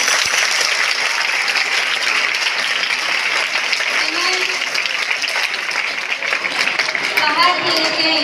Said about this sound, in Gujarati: આપણે તાળીઓથી એમનું સ્વાગત કરીએ છીએ